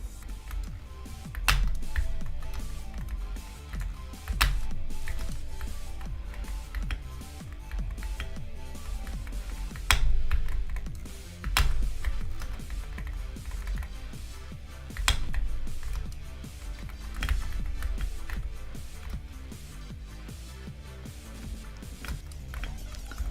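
Typing on a Wooting keyboard, close and moderately loud, with irregular bursts of clacky keystrokes and occasional sharper louder hits spread over a long stretch, no talk.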